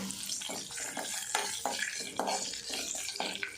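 Peppercorns, dried red chilies, asafoetida and curry leaves crackle and sizzle in hot oil close up, mixed with brisk stirring and scraping sounds from the pan.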